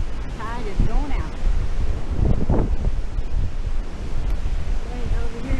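Ocean surf rolls steadily onto a wintertime beach at Myrtle Beach, South Carolina, with gusty wind buffeting the microphone; people talk intermittently over the constant roar.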